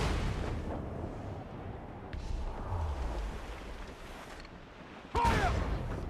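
Ship cannons firing during a naval battle in a video game: low booming blasts over a rumbling background, with a sharp, loud report near the end, while a voice calls out commands.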